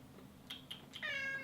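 A pet cat meows in a kitchen during a meal, giving two or three short chirpy calls and then a longer, clearer drawn-out meow, close by and fairly quiet over a faint room background.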